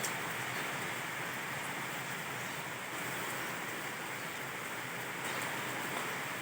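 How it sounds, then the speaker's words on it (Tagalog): Steady broadband rushing of gusty, storm-like wind with no rain, constant and loud with no pauses, a dense hiss filling the whole stretch without any voices. "At pabugso-bugso ang hangin ngayon mga bro."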